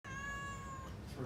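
Small stray cat inside a hotel room near San Jose, Costa Rica, giving one drawn-out, high tonal meow, close and clear against quiet room noise.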